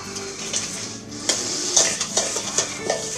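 A spatula stirs soft butter and sugar in a bowl, close scraping and clacking strokes in an irregular rhythm, with no talk.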